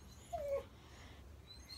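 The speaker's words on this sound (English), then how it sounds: "Sorry about the dogs." A single short, thin dog whimper rises and falls once, faint and nearby, followed by quiet room hiss.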